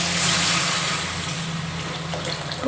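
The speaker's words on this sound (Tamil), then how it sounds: "இப்போ நம்ம புளி கரைச்சி வச்சுருக்கோம் இல்லையா அதையும் எடுத்து நம்ம சேர்த்துக்கிடுவோம்" Dissolved tamarind water poured into a pan of curry being made with banana flower dumplings, a loud, close, steady watery pour and splash lasting a few seconds.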